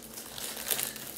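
Soft crinkling and crumpling of packaging material as a package is opened, a steady rustle that swells briefly near the end, close by with no voices.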